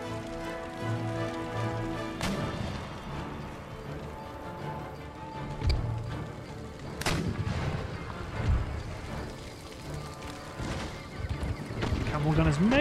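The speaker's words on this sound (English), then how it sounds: "My mortars are attempting to fire at their mortars, which I will accept." Mortar and artillery fire in the Empire Total War siege battle, several booming blasts and sharp cracks spread irregularly across a busy battlefield din with horses whinnying and someone talking throughout.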